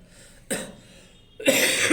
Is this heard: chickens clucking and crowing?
no